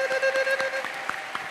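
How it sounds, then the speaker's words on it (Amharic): A church congregation claps in quick bursts with a high ululating cry over it, close and lively, then fading toward the end. "ለጌታ እልልታና ጭብጨባ አምጡ"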